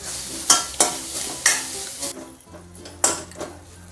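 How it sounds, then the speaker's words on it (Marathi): Grated coconut is stir-roasted in a pan with browned onion and fennel, a sizzle broken by several sharp scraping strokes of the spatula at an uneven rhythm, close and fairly loud, with no voices. "आता हे बघा खोबरं टाकून घेऊ आणि चांगलं परतवून घेऊ"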